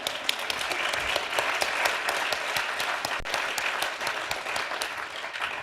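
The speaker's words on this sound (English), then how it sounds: "it's okay to clap." A forum audience at an evening public-health event claps steadily, a thick, continuous applause of many hands at even loudness with no talking over it.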